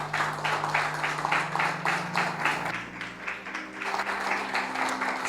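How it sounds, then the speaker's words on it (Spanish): A church congregation claps together in rhythmic, evenly spaced beats, loud and close, with a sustained musical tone underneath and no talk over it. "Dale una ofrenda de palmas al Señor."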